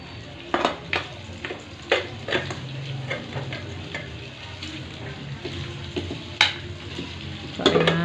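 Pork and tofu sizzle and fry in a pan while a utensil scrapes and clanks against it in irregular bursts, close and fairly loud, with no talking.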